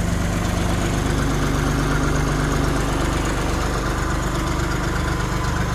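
A small old John Deere tractor engine idles steadily nearby with a constant low rumble and rhythmic knocking throb.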